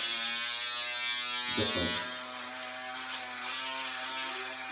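An Andis barber's hair clipper with a plastic top runs with a steady, close electric buzz that dips briefly partway through, then continues evenly.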